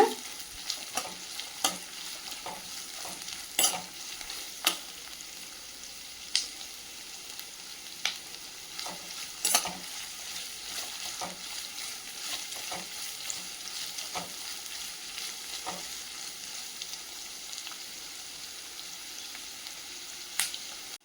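Sliced onions sauté in a hot pan for chicken sukka, a continuous soft sizzle and crackle with repeated scraping clicks of a spoon stirring at irregular intervals, close by and with no talking.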